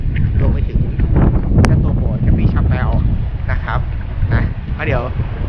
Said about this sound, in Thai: วันนี้เนี่ย ลมค่อนข้างแรงแล้วก็ฝนตกนะครับ